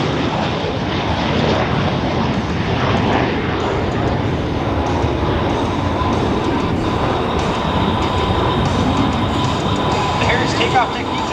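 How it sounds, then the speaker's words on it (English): Loud, steady roar of a USMC AV-8B Harrier jet positioning for a short takeoff at an airshow, a continuous engine blast filling the air throughout with no pauses. "At your immediate front, the pilot is positioning his aircraft for a short takeoff."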